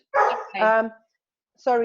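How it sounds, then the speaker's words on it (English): A pet dog barks at home, two loud yappy barks close together and a third after a short gap, with a person briefly speaking over the barking. "you can hear my dog barking in the background"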